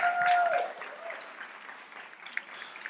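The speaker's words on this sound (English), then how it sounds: "Another round of applause, please, for both of them." Short burst of audience applause at a startup demo day event, steady clapping from a room of people, moderately loud at first then thinning out, with a faint tonal whine in the opening moment.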